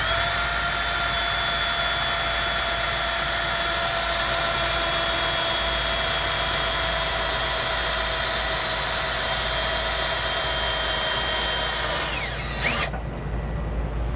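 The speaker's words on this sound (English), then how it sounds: "We're going to start with a smaller pilot hole." A power drill whines continuously at high speed, boring a pilot hole in the steel frame of a 1990 Toyota 4Runner for a trailer hitch, for several seconds before abruptly winding down and stopping.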